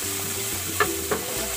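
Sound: frying in leftover chicken wing oil

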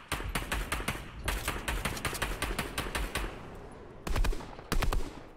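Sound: sniper gunfire in Fortnite video game

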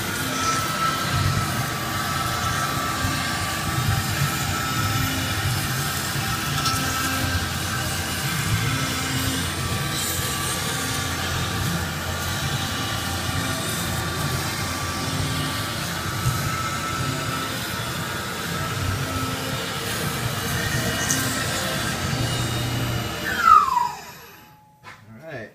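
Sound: Tormach CNC mill cutting a UHMW plastic sprocket

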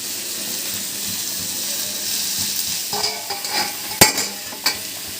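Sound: onions sautéing in a pan

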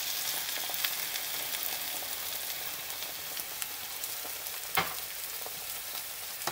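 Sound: potatoes frying in a pan after adding white wine

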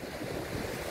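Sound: wind rising on the coast

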